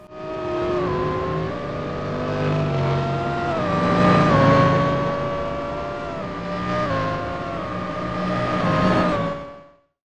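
Koenigsegg Regera hypercars accelerating in the Real Racing 3 game, loud rising engine notes climbing through repeated gear shifts over about ten seconds, with cars swelling and fading as they fly past.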